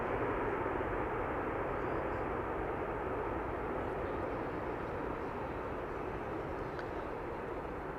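An Airbus A380 landing at Amsterdam Schiphol gives a dense, steady roar of engines and rushing air, loud and unbroken from start to finish.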